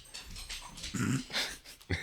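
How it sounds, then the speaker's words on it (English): Several dogs whimper, growl and pant indoors over about two seconds, with a louder burst of vocalizing partway through and a short yelp near the end. "The dogs are part of the podcast."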